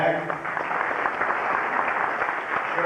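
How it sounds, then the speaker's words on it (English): A seated audience at a 1999 Man of the Year banquet breaks into steady, dense applause, a continuous wash of many clapping hands at even loudness throughout, with faint voices mixed underneath. "If you'd stand up so everybody can give you a round of applause."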